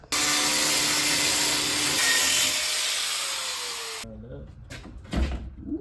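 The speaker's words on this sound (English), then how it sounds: "It's grinder wheel time." An angle grinder with a cutting wheel bites into car metal, a loud continuous high whine for about four seconds, then stops, leaving a few clattering handling knocks.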